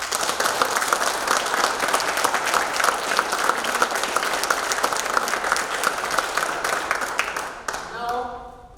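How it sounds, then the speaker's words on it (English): A seminar audience at a tempo session in Hyderabad breaks into loud, sustained applause with dense clapping throughout, which thins and trails off near the end. "Give yourself a round of applause."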